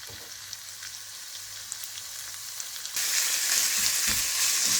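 Chicken breast pieces fry in vegetable oil in a pan, a steady close sizzle that jumps suddenly louder and brighter partway through and then holds.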